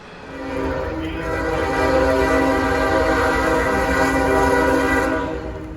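A long northbound special freight train, over twelve thousand feet, rolls past on a rainy day with a loud, sustained rumble and a steady horn tone swelling as it approaches and holding near, then easing slightly.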